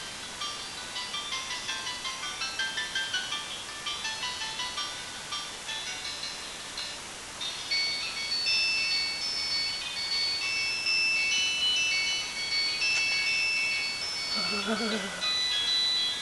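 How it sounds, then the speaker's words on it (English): Fixed ringtones on a cheap budget phone play one after another as a string of bright electronic melodies with steady tonal beeps, fairly close and moderately loud, with faint talking underneath. "Those ringtones are truly horrible."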